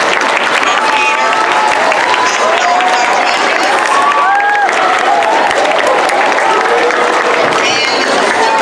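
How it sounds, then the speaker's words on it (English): An elementary school audience at a spelling bee claps and cheers loudly and continuously, with children's shouts and whoops rising above the dense applause. "a big hand of applause"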